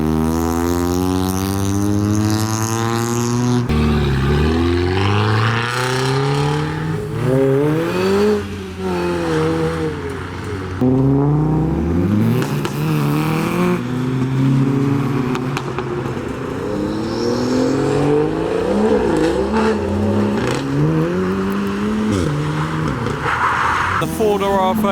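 Modified cars pull away from a car meet, engines revving and rising in pitch one after another, loud and close, while people talk over the engine noise.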